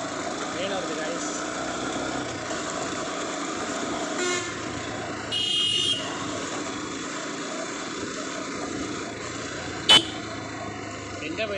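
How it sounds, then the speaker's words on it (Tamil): On a rough rural road, a passing train makes a steady rolling rumble. Short horn-like tones sound midway, and a sharp click comes near the end, with low background chatter under it. "ட்ரெயின் வருது கைஸ்."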